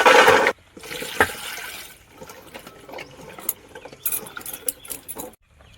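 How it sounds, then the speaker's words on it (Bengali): Raw jujube fruits are washed in water, with splashing, dribbling and soft knocks of the fruit in a bowl at close range. "কাঁচা কুলটা আমি জল দিয়ে ভালো করে ধুয়ে নেব।"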